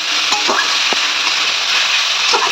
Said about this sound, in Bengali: এর মধ্যে আমি দেবো মোচাটা একটু ভেজে নেবো